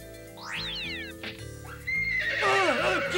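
A horse whinnies loudly in a rising-and-falling call, with hoof clopping underneath and a second excited neigh near the end, close and clear.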